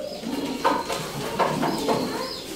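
A pet pigeon coos in a few soft, repeated phrases close by, with faint background noise around it.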